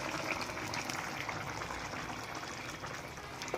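Fish curry broth bubbling and simmering in a pot while tamarind broth is poured in, a steady dense hiss of boiling liquid throughout with no talk.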